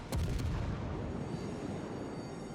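Heavy naval gunfire from World of Warships, with a big booming salvo near the start and a rumbling, reverberant tail trailing off over a couple of seconds, no talk.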